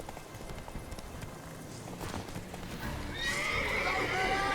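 Roach the horse galloping in The Witcher 3, steady hoofbeats under game ambience, then a loud neigh rising toward the end.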